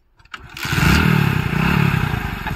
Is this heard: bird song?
no